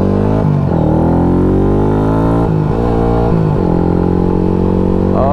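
A new motorcycle rides past at moderate speed, its engine droning steadily with several rises and dips in revs as the throttle opens and eases, loud and close throughout with no talk.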